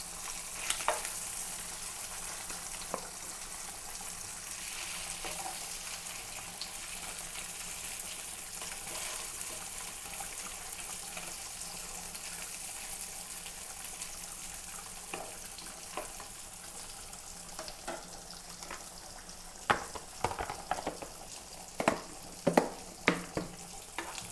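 Thin pieces of stingray fish fry on a low flame with a continuous soft sizzle and crackle. Occasional sharper pops and spatters come through near the end, and no one speaks.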